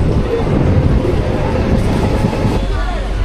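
On board a train pulling out of Badalpur station: a loud, steady rumble of wheels and carriage noise, continuous throughout.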